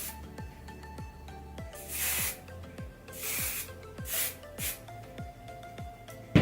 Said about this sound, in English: All I'm gonna do is just kind of spray this all like in my roots